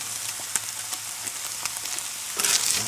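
Fresh red peppers with gochujang and Korean barbecue marinade sizzling in a pan at a roadside campsite, a steady close crackle with scattered pops, swelling louder near the end.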